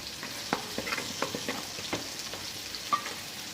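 Masala with turmeric, salt, Agri chili powder and garam masala sautéing in oil in a pan for a crab dish, a steady soft sizzle with scattered scraping stirring taps throughout.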